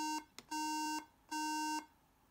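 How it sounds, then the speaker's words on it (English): Electronic boot error beeps from a 17-inch A1261 MacBook Pro in a short pattern: one brief beep, then two longer steady tones with gaps between them. Clear and close against a quiet background. "What does three beeps mean?"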